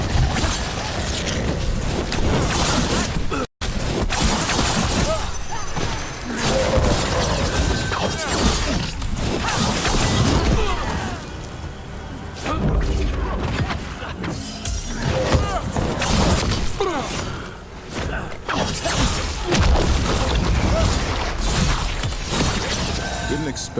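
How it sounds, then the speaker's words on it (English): Mortar blasts and battle clamour from Dragon Age: The Veilguard: a continuous, loud, dense barrage of crashing, shattering impacts and mechanical clatter, with one brief drop to silence early on. "They've got mortars."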